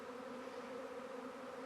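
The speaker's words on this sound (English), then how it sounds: "The whole hillside is covered in bees." A swarm of bees covers a hillside, making a steady, low, continuous buzz at a fairly faint level.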